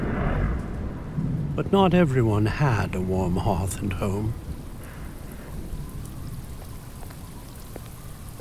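A thunderstorm with heavy rain pours steadily behind a narrator's voice, with a rumble of thunder near the start, the rain hiss continuing alone once the speech ends.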